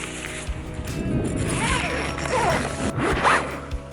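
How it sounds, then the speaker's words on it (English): A zipper on a small wild-camping tent is pulled in several close, rasping strokes with brief pauses, the fabric rustling between pulls and no speech. "See if I can zip this back up."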